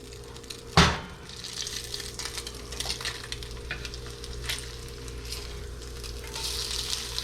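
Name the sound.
shredded potatoes frying in pan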